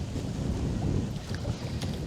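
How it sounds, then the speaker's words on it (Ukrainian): Strong, gusty wind blows over the Dnipro river during fishing, roaring steadily and close with low rumbling buffeting across the whole stretch. "Ну, нічого окрім вітру скаженого."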